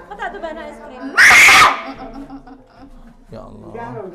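A child lets out one loud, piercing scream lasting about half a second, set between stretches of an adult and someone talking nearby.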